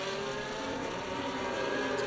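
F1 video game race cars hum along in a pack behind the safety car at the Hungarian Grand Prix, engines droning steadily at moderate revs in a continuous buzzing whine.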